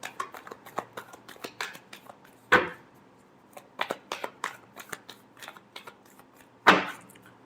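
Tarot cards being shuffled by hand, a run of soft, quick riffling flicks and taps with two sharper riffle bursts, close and fairly quiet.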